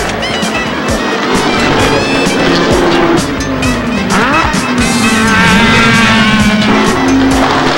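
Jaguar race cars driven flat out, loud engines screaming with rising and falling revs as cars pass close by, overlapping whines and a brief tire squeal.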